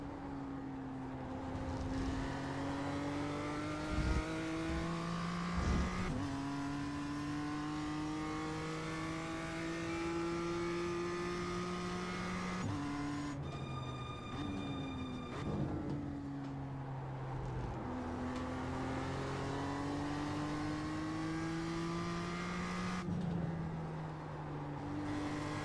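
A BMW M2 race car in iRacing at Okayama, its engine climbing through rising revs, dropping at gear changes and accelerating again in repeated pulls, loud and continuous with no talk.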